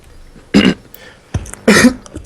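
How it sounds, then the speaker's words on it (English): Two sharp, close coughs separated by about a second, with a brief throat-clearing rasp between them. "sound like you got a bit of a cough there"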